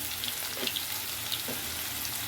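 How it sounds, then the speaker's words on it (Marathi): Cumin, finely chopped onion and asafoetida fry in hot oil, giving a dense, continuous close sizzle with faint crackles and no talking. "आता तेल तापलेलं आहे आता आपण काय जिरा टाकू नंतर कांदा बारीक चिरलेला कांदा हिंग टाकलं मी"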